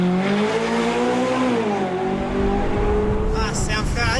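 A Ferrari California sports car engine revs hard, its pitch climbing and dipping, then surging sharply near the end.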